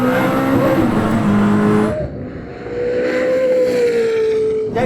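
Koenigsegg CC850 engine in manual mode roaring loud and close, holding a high rev pitch, dropping sharply at a gear change, then pulling steadily up again through the next gear.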